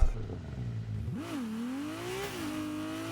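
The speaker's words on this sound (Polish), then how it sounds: "i dźwięk silnika" A Ferrari 296 GTB engine in Rocket League revs, rising in pitch and then holding a steady drone, with a synthetic, game-like quality throughout.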